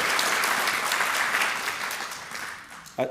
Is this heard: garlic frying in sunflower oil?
no